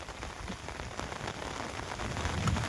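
Heavy monsoon rain pours down steadily over a village, a dense patter on surfaces that grows slightly louder toward the end.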